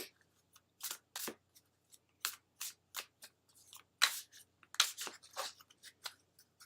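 Crisp, riffling bursts of playing cards being shuffled come in a quick irregular series, close up and quiet between bursts, with no voices.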